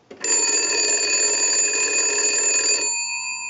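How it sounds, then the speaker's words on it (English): A Western Electric 250 W wood wall telephone bell rings from an analyzer test ring cycle in one sustained burst of nearly three seconds, loud and close, then cuts off leaving a faint ringing decay. "Now we can use the analyzer and send a ring cycle."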